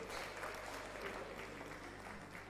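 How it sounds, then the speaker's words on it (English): Seminar attendees at a university registry in-house session clap for themselves, a continuous, fairly quiet spread of hands clapping across the room over a low steady hum. "Please, let's clap for ourselves."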